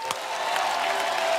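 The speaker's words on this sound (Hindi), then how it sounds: "सो अब आ रहे हैं आप सबकी जोरदार तालियों के बीच" A studio audience on The Kapil Sharma Show applauds in a steady, dense wash of clapping, with a faint sustained tone underneath.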